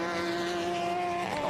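An SPX Sebeco race car with a 250-horsepower engine runs at Road Atlanta during a feature race, a steady loud droning engine note held throughout without any speech.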